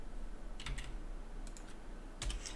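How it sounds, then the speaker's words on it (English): Keys clatter on a computer keyboard in three short, quick bursts of typing separated by pauses, close but fairly quiet, with no voices. "I'm typing and giving you some extra information, cut and pasting into chat."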